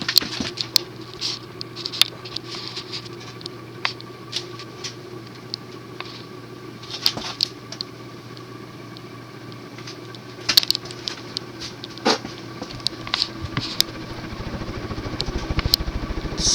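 Union Gulf Star 52-inch ceiling fan running on high in reverse: a steady, low motor hum close by, with scattered light ticks and clicks throughout.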